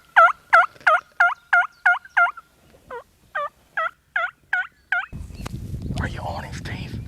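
A wild turkey with hens nearby gobbles in a steady string of about a dozen quick, loud calls, then a rustling, brushy noise takes over outdoors.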